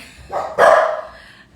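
Dogs bark at a squirrel indoors: a short yip followed by a louder, sharper bark that trails off, fairly close, with no talking.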